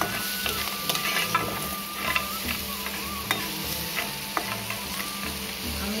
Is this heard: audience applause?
no